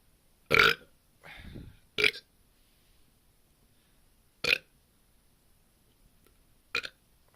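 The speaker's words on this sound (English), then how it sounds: "if I burp, it's a sign of a good beer" A man burps after drinking beer: four short, loud belches spaced a second or two apart, with a brief breathy exhale between the first two, in a quiet room.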